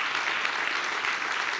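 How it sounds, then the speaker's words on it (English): An audience claps at the Reporters Without Borders Press Freedom Awards 2019 ceremony, giving a sustained, dense round of applause from many hands. It stays steady and fairly loud throughout. "Please, another round of applause"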